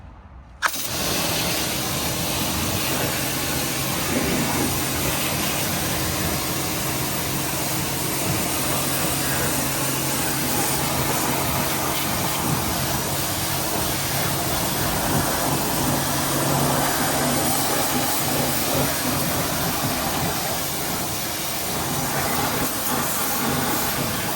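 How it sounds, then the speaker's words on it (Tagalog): A pressure washer rinses a car tire in a home garage, a loud, continuous hissing spray mixed with a pump drone that starts abruptly and runs steadily to the end. "just wash it off with a pressure washer"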